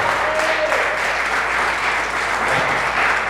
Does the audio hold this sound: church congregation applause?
yes